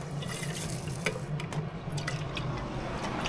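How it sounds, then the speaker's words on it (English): A small splash of water is poured into a pan of Thai green chicken curry with coconut milk on an induction hob aboard a boat, giving a faint, close trickle and bubbling. "Just going to put a tiny bit of water in there."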